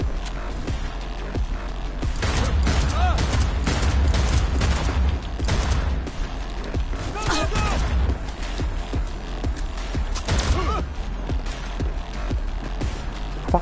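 Rapid gunfire in the video game Cyberpunk, with bursts of sharp shots and impacts layered over a dense, loud game soundscape with a heavy low rumble throughout.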